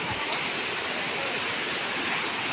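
A small waterfall in a forest ravine, its steady broadband rush of falling water continuous and fairly close, with no voices over it.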